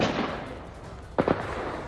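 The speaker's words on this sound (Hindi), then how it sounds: "सुन सकते हैं आप, धमाके हो रहे हैं। फायरिंग अभी रुक नहीं रही है" Two sharp cracks of gunfire, fairly distant, ring out in quick succession over a steady outdoor noise floor during an armed encounter with militants near a forest in Kulgam, Jammu and Kashmir.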